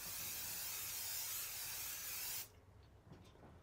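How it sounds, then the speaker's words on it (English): Spray glue hisses in one long, close, steady burst onto a quilt during basting, then cuts off abruptly, leaving faint handling noise with no talking. "I tend to go squirt, squirt, squirt, squirt, and then Tom goes systematically down"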